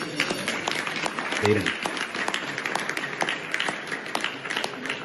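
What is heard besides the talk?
audience applauding at Iran memorandum signing, played video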